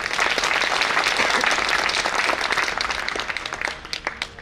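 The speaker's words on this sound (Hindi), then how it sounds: "जरा ताली वादन कीजिए" A temple crowd at a Swaminarayan festival gathering claps together in loud, dense applause that holds steady, then thins out and fades toward the end.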